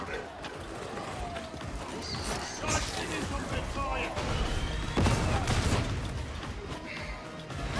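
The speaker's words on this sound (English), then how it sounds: "I like this bolt gun." Heavy gunfire from a bolt gun in Warhammer 40,000: Darktide rattles in dense, overlapping bursts amid clanking combat noise and explosions, loud and continuous throughout.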